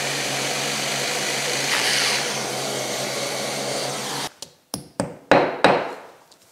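A power drill bores into a wall in a workshop. A long steady whine runs for about four seconds, then stops, and several short, sharp bursts follow.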